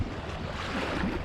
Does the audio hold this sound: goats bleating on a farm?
no